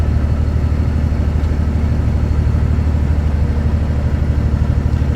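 A truck with an 18-speed Road Ranger transmission labors up a hill held at about 1500 rpm, a loud steady low diesel drone with a throbbing rumble and no talking.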